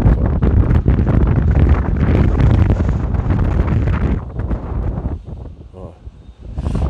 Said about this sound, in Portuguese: Olha lá, agora vem a rajada de vento